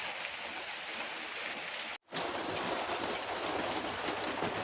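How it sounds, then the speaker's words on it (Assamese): Light rain falls steadily at home on a hot, sunny day. A soft, even patter runs throughout, cuts out in a brief gap, then resumes at the same level. "এতিয়া কি হৈছে অকণমান মানে দিওঁ নিদিওঁকৈ বৰষুণ অকণমান দিছে।"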